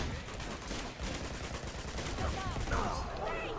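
Sustained automatic gunfire from Uncharted 2 rattles through the clip as a dense, continuous burst, with a few short shouted voices breaking in near the end.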